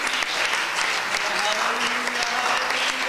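A church congregation claps in praise during an evening service, a sustained, dense round of applause with a voice speaking or calling out over it.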